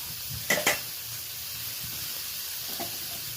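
Vegetables, kohlrabi and potato, sizzle in oil in a pan as a steady, faint frying hiss, with two sharper crackling bursts near the start and a small one near the end.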